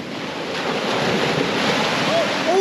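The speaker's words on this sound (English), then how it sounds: "the waves." Ocean surf washes onto a Hawaii shore during a fishing outing, a steady broad roar of waves mixed with wind buffeting the microphone, close and continuous.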